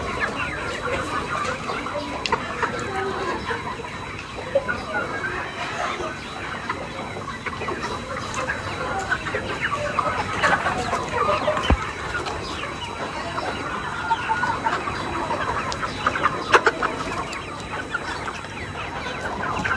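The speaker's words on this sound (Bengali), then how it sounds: "মুরগিগুলা কিন্তু অনেক বড় হয়েছে।" Broiler chickens on a poultry farm, many birds clucking and chattering continuously at close range, a dense flock sound with occasional louder individual calls.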